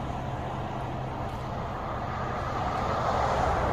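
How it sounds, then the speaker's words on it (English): Road traffic at sunrise beside a misty field in Ellsworth, Maine, heard as a continuous distant hum of passing vehicles that swells slightly toward the end, with no voices. "Never mind the sounds of the traffic."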